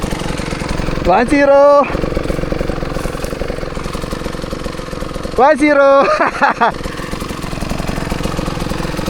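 Husqvarna 150 motorcycle idling nearby with a steady rough putter, broken twice by short, rising revving bursts; someone talks over it at times.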